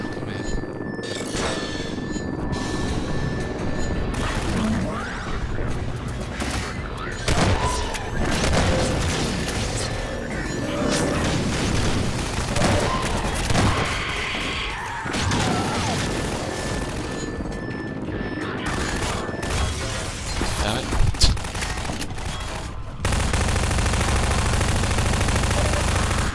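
Gunfire and explosions from the VerticalVille shooter game, with bursts of shots and booms continuing loud and dense for most of the stretch, then a steady roar near the end.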